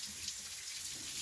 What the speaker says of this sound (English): rinse that filter off, throw it into the dish rack